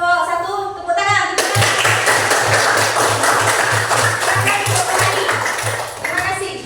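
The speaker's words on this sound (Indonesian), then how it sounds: "Tepuk tangan." Classmates clap for a group presentation in a classroom, a dense patter of hands that starts after a brief voice and carries on steadily for several seconds, loud and close, with a low rhythmic thump underneath.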